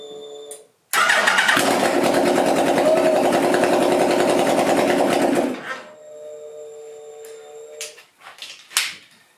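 Suzuki Hayabusa motorcycle engine swapped into an electric Citicar, running without headers, cranks and catches into a loud, raw, buzzing run for about five seconds, then shuts off, leaving faint clatters and brief noises afterward.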